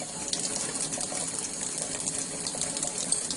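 Running tap water filling a bath for pet budgerigars, a steady close gushing splash that stays loud and even throughout.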